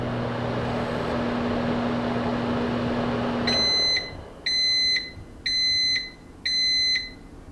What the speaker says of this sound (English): the impending nag of a microwave counting down